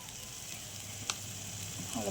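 Quiet, steady sizzling of cumin seeds and turmeric frying in hot oil, a soft crackle running throughout with one brief sharp click.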